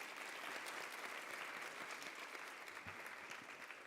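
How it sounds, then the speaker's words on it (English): Audience applause at a medical diversity symposium, a steady wash of many hands clapping that fills the whole stretch at an even level before trailing off slightly. "So if we can give Serena and Sanaya another round of applause."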